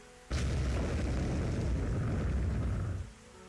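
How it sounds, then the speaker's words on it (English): Rain sound effect from the video game Higurashi, a dense, steady roar of downpour that cuts in abruptly, holds for about three seconds, and then stops. "The cold rain beat down on her."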